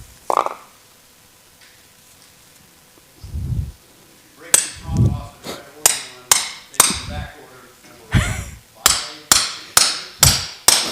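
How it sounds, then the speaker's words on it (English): Hammer striking a two-prong drive into wood along the grain, about a dozen sharp, close blows that speed up into a steady rhythm, after a few quieter taps at the start. "you want that two-prong to line up with the grain. And then you just hammer it in"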